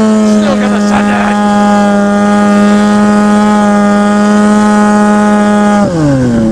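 A snowmobile engine fitted with an aftermarket exhaust drones loudly and steadily at high revs, then drops in pitch near the end as the throttle eases off.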